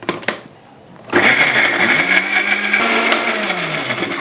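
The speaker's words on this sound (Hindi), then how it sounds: "और इसको ग्राइंड करेंगे" An electric blender grinds green chutney made with salt and a little water, roaring to life after a few brief taps and whirring loudly and steadily close by, its motor pitch wavering as the contents churn.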